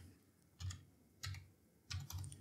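Several quick bursts of keystrokes on a computer keyboard, close and quiet in a still room, with short pauses between the clusters of clicks and no voice.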